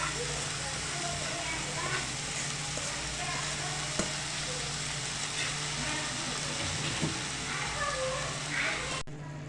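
Carrot greens dropped into a pan of roasted garlic give a steady, close sizzling and frying hiss throughout, with a brief clink and voices talking faintly underneath.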